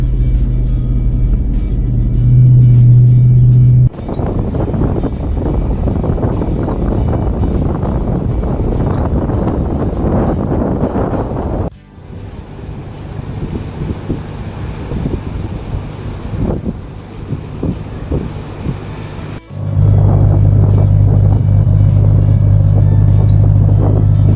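Loud, steady engine roar and rushing wind as a 2021 RAM TRX pickup truck, 702 horsepower, drives fast on a beach near the water, with abrupt shifts in intensity partway through.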